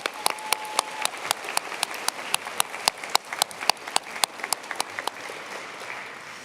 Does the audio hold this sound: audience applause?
yes